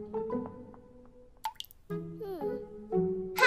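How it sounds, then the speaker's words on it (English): Cartoon dripping tap, with a few tonal plinking drips and plops spaced out over a few seconds alongside musical, cartoonish effects. "Have you fixed a dripping tap before"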